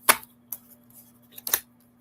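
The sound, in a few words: shuffling tarot cards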